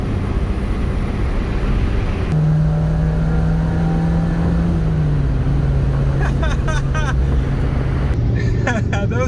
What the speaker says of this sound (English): You can hear the exhaust echo.